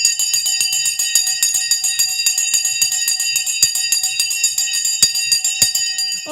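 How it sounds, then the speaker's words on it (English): A bell rings continuously as a closing bell, a bright steady metallic ringing with rapid even strikes throughout, loud and alone. "The bell has now gone."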